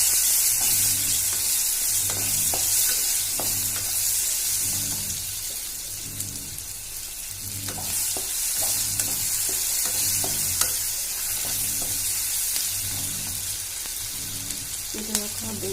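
Cumin, chopped tomato and onion sizzle in hot oil for eggplant curry. A spoon scrapes the pan in regular strokes over a steady frying hiss, with a few sharp clicks.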